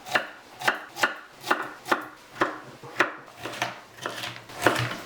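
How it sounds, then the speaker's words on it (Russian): A knife chops carrots into cubes steadily on a cutting board, about ten crisp, evenly spaced strokes close up, with no talking. "Морковку нарезаем кубиком."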